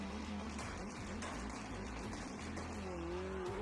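A custom Volkswagen Beetle diecast race car revs steadily at a diecast hill climb race, a continuous droning motor whine that rises in pitch toward the end, with no talking.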